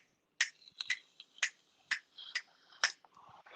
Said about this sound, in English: You can listen to the silence, or I'll snap my fingers.